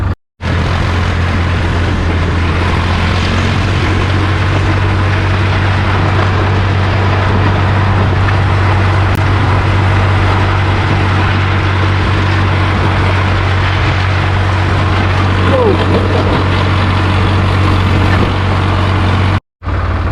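A 42-horsepower Sonalika tractor engine running continuously at a steady idle-like drone, a strong low hum that stays loud and even from start to finish, with no talking.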